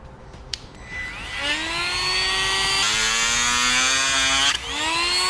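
A power tool trims a plastic upper air deflector to clear a base plate: a high whining cut rising in pitch, held steadily near and loud for several seconds before cutting off, with no talk.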